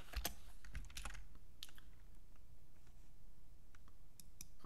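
Quiet, close typing on a computer keyboard, with a quick cluster of key clicks at the start followed by sparser, scattered taps, no voices.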